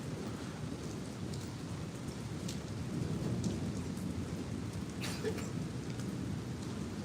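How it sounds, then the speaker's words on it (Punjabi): Steady rain pours down outdoors, a dense continuous hiss with rumbling thunder rolling underneath and a brief sharper crack near the five-second mark; no voices. "ਫੇਰ ਆ ਗਿਆ ਮੀਂਹ"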